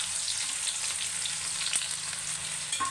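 Onion and cumin seeds fry in hot oil with a continuous, moderately loud sizzle and faint crackling throughout.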